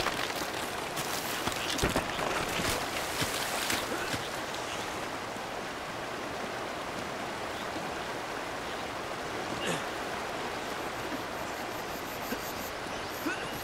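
Rushing water from a waterfall in Uncharted: Drake's Fortune pours in a continuous broadband roar, steady and fairly close, with a few faint knocks early on.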